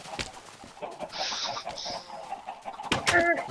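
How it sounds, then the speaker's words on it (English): Chickens clucking in Minecraft, in short scattered calls amid game noise and a hiss, ending with a louder cluster of clucks near the close. "Damn it, chickens, get out of my way!"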